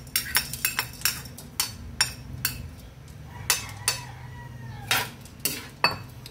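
Metal utensil stirring onion, garlic, black pepper and bay leaf in a pan for squid adobo, producing a steady run of sharp clinks and scrapes against the pan, close and fairly loud, with no talking.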